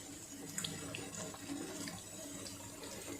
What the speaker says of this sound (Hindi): 1 गिलास पानी डालेंगे और इसको मीडियम टू स्लो फ्लेम पे तकरीबन 6-7 मिनट पकाएंगे